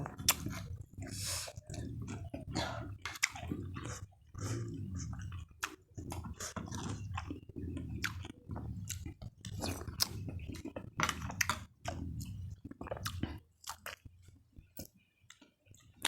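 Close, wet chewing and crunching of spicy Thai beef larb, steady bites and squishy mastication repeating throughout with brief pauses and no talk.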